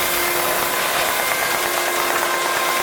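An air-operated feed pump runs on an IWKA TFS 20 automatic tube filler filling roughly 30 mm tubes, giving a steady, loud broadband hiss and whir with a faint tonal hum, continuous throughout and no voices.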